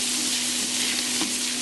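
Pork intestine sautéing with ginger in a pan gives a steady, close sizzle for under two seconds, broad and even with a faint tonal hum beneath and one brief scrape near the end.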